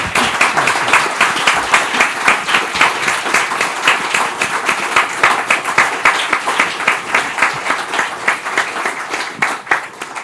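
Sustained audience applause following a panel discussion at an exhibition opening, dense steady clapping from a large crowd that continues for the full length without pause.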